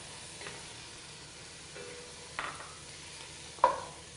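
A low sizzle of ginger garlic paste frying in a pan with lightly browned onions, with a few light scrapes and a sharp clink of a utensil near the end.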